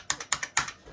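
Keys pressed on an IBM Model F buckling spring keyboard: four sharp, close keystrokes in an uneven rhythm, each with a bright snap and brief ring, the last one loudest, then quiet.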